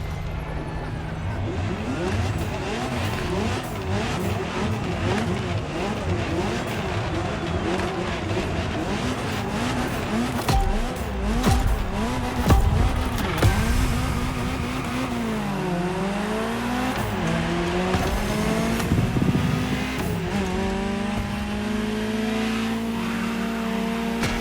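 A Ferrari GTO supercar tears along in The Crew Motorfest, its engine loud and close, revving up and down through gear changes with sweeping pitch and brief bursts of tire squeal throughout.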